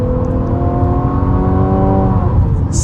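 A 2022 Infiniti QX55 engine accelerates hard under a short burst of throttle, loud and close, with a rising harmonic whine that climbs steadily and then levels off near the end.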